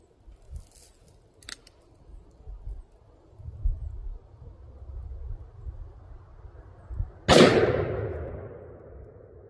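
A Smith & Wesson .460 revolver with a 5-inch barrel fires a single sharp, loud blast that rings and fades over a second, following a quiet stretch with a faint earlier click and low rustling.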